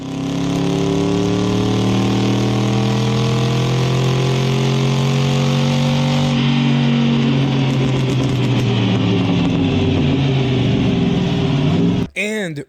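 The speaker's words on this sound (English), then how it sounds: "It's a 5-speed swapped Crown Vic" A Ford Crown Victoria swapped to a T5 5-speed manual and dyno tuned runs loud and close, its engine droning with rising and falling revs and harmonic sweeps as it drives, ending in a short blip.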